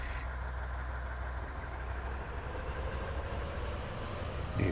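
A truck engine runs in the Farming Simulator 19 video game on a Western Australia farm, producing a steady, even low drone that holds throughout.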